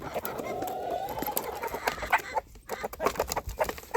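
Brooding hens in a backyard chicken garden cluck in short, repeated bursts close by, with intermittent talking over the flock.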